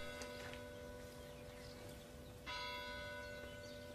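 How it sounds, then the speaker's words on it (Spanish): Church bells ring faintly in the distance, their sustained tones layered over low background hum, with a second bell strike joining partway through. "¿Oyes las campanas?"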